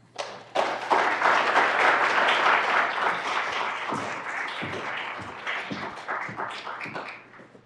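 A lecture audience claps to welcome a speaker at an academic celebration, steady dense applause rising quickly, holding strong, then thinning into scattered claps before fading.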